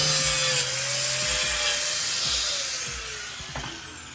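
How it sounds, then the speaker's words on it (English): Fuel lines being cut on a G37 sedan during a turbo kit install, a continuous high saw-like rasp over faint low knocks, gradually easing off toward the end. "helping me cut the lines to the fuel system."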